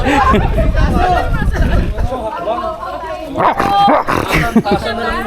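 A dog barks and yips amid loud overlapping chatter from several people nearby, the barking breaking through the voices in short bursts.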